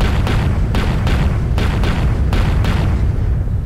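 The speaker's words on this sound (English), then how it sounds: "he'll do explosions every single time he walks" Heavy, booming explosions from each step of a giant tree-headed creature in Garry's Mod, a loud rapid series of deep blasts about every quarter to half second over a constant rumbling roar.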